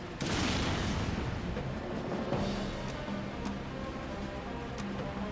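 Explosion at the factory in Xenoblade Chronicles: a dense, sustained roar of booming blasts and crackling debris that fills the whole stretch loudly without pause, with no voices.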